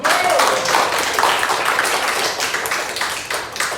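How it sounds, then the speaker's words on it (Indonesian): A group claps hands together during a school training session, a dense steady patter of claps that stays fairly loud throughout, with faint voices mixed in. "Tepuk tangan dulu."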